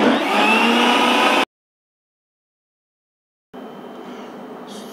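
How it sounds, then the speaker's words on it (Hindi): A blender pulsed briefly on a guava smoothie, a loud close whirring roar that cuts off abruptly, then after about two seconds of silence starts again at a slightly lower pitch. "बहुत ज़्यादा ब्लेंड नहीं करना, बस इसको एक बार चला के वापस ऑन ऑफ करना बस।"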